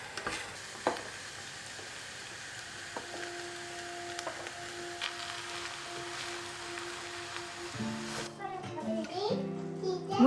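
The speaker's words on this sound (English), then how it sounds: "I sauté the white onion and the rest of the vegetables in a pan for about 7 minutes." White onion and mixed vegetables sauté in a pan with a low, steady sizzle, a few stirring knocks and clinks over it and someone talking faintly in the background.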